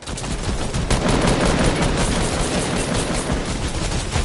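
Loud, dense gunfire in a shooter video game, a continuous rapid rattle of automatic shots filling the whole moment without a break.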